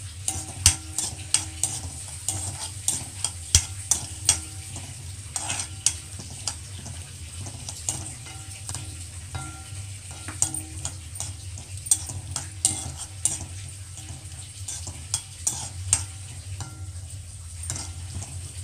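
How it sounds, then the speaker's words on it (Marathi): Peanuts stirred and roasted in ghee for til-gul ladoos, a gentle sizzle with regular rhythmic scrapes and clicks of a spoon on the pan, close and steady with no speech. "शेंगदाणे आपण चांगल्या तुपामध्ये परतून घेऊया."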